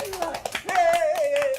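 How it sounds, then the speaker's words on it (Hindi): Several quick hand claps ring out under talking, with a voice holding a sung or drawn-out tone through the rhythm. "चलो ना, बजाओ ना तालियां"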